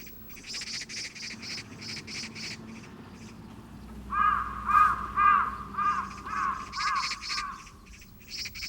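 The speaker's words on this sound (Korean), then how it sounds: "까치가 쓰레기들과 함께 이곳에 모여들고 있다." Crows and magpies gather at a city landfill, with a series of loud, rhythmic caws repeating in the second half over a faint, steady insect drone and earlier scattered bird chatter.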